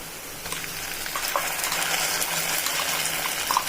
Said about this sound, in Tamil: நீல வாக்கில் கட் பண்ண வெங்காயத்தையும் சேர்த்துக்கலாம் கொஞ்சம் வெங்காயம் நல்லா வதங்கட்டும்